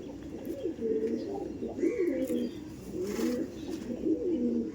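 High-flying pigeons in a pigeon loft coo in low, rolling, repeated phrases, close and steady over a soft background murmur of other birds.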